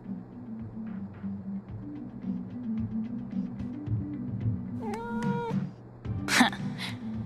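A cat meows in a game setting, a rising-and-falling cry late in the passage over a steady low hum, followed by a brief sharper burst.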